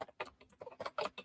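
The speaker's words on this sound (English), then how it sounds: "Emily, if you could type" Rapid typing on a computer keyboard, a quick close patter of key clicks in bursts, quiet and alone.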